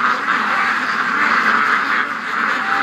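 Ducks being raised in a backyard flock quack loudly and continuously, several birds overlapping close by in a dense, unbroken chorus with no voices.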